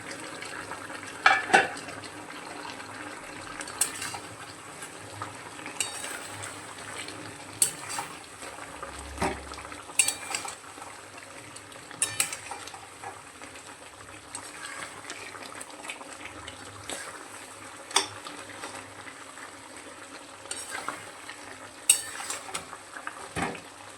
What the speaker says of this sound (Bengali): ঢাকনা খুলে মাংসটাকে নেড়ে দিতে হবে ভালো করে